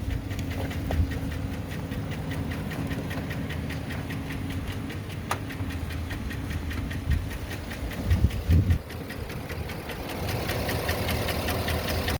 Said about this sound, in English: It was a terrible, loud lifter knock.